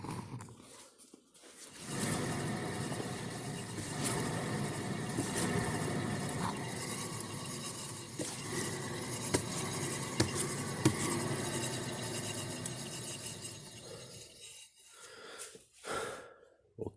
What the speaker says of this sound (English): the driver's side wheel bearing is making noise. Sounds dry and noisy.